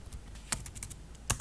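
Someone types a Terraform destroy command on a computer keyboard: a quiet, brief run of light, uneven keystroke clicks, with two louder taps standing out.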